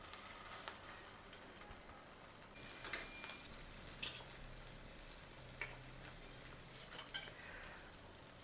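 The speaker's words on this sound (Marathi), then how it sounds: "दोन्ही बाजूने छान पाव भाजून घ्यायचा" Pav bread roasting on a hot griddle spread with pav bhaji masala, a soft steady sizzle with scattered crackles and occasional scraping taps, fairly quiet throughout.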